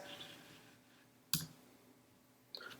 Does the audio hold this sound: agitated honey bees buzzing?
no